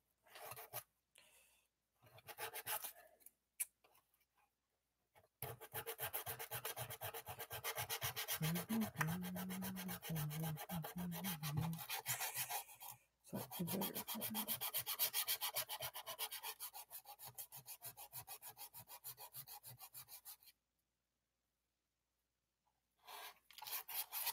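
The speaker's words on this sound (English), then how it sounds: "I might as well just sand it and fix some of the small issues that I had while I was at it" Sandpaper rubs over the painted surface of a toy blaster in close, rapid back-and-forth strokes. The scratching comes in long bursts separated by short pauses and a longer silence.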